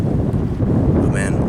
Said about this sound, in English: I love the sea breeze.